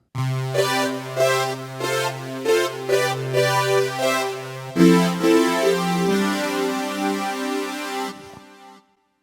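A Novation synthesizer voice preset plays sustained, layered harmonic tones in shifting chords, steady and fairly loud, before stopping abruptly near the end with a brief decay.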